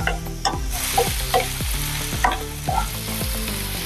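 Onions frying in a pan over low heat for stuffed eggplant, a steady close sizzle broken by repeated scraping stirs of a spatula, with no talking.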